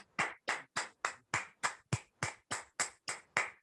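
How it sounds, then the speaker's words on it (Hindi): Audience at a national education and motivation celebration claps in a steady, evenly spaced rhythm, about a dozen sharp, unison beats at a brisk regular pace, with no talk over them. "आपकी जबरदस्त तालियों के बीच में"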